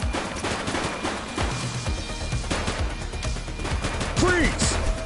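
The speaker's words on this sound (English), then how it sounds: "He's shooting!" Rapid bursts of gunfire from a shooter in The Precinct, sharp cracks repeating densely over several seconds amid street noise, with a short siren-like chirp near the end.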